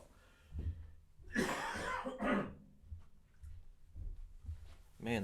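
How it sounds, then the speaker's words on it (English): A person coughs and clears their throat, a couple of harsh bursts close to the microphone, followed by quieter mouth noises and a brief spoken word at the end. "Excuse me, I'll just have a cough."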